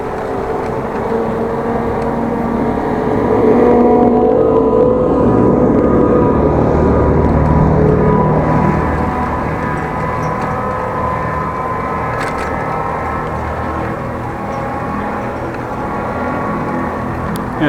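Car driving through Groningen along Korreweg, a continuous low interior road rumble and engine drone that swells slightly midway and holds steady, with no talk.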